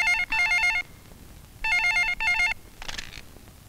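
An old-style telephone rings in two trilling bursts from a Hindi film scene, bright and warbling, followed by a brief rattle as the handset is picked up.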